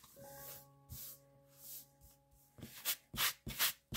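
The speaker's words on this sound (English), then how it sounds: "do a little bit of sanding." Rough scratchy strokes of 220-grit sandpaper rubbing on fabric, a few quiet passes followed by several louder, quicker rasping swipes.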